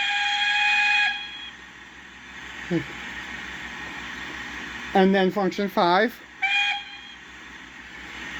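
Accurascale Buckjumper model steam locomotive sounding its whistle: a long steady tone at the start, a brief chirp, then a rapid run of short pulsing whistles and one final long blast, with a voice speaking between them.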